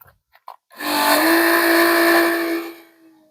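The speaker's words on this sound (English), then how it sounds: "this acts as a pump, and this particular model of macerator" An RV macerator pump starts up while draining a gray tank into a 100-gallon bladder, a steady motor whine with a droning hum that holds for about two seconds, then winds down and stops after a few faint clicks.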